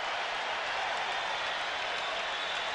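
Arena crowd at the 1986 NBA Slam Dunk Contest roaring and applauding steadily at a distance, a dense wash of cheering with no break.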